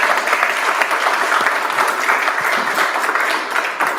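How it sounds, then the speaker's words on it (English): Steady audience applause at a Wichita Startup Week talk, dense and even for the full four seconds, with no voices on top. "Let's give her a round of applause."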